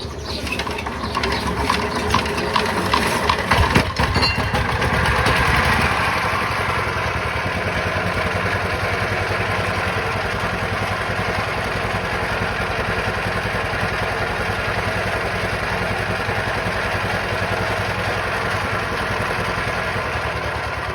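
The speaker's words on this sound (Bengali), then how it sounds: "চলুন আপনাদেরকে স্টার্ট দিয়ে ইঞ্জিনটা দেখায় কি অবস্থায় আছে" A second-hand Chinese 20 HP diesel engine in poor condition runs close by, with a louder clattering surge over the first few seconds before settling into a steady, rough mechanical drone.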